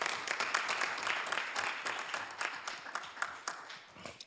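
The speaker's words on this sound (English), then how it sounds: "let's give our public service employees a big round of applause" Applause from a council meeting audience honoring public service employees, dense steady clapping filling the room throughout and tapering slightly toward the end, with no talk over it.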